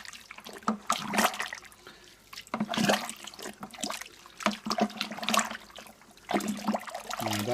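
Pectic enzyme being stirred into grape must from a white wine kit gives sloshing, swirling liquid sounds that come in repeated surges and fade between strokes, up close with no talking.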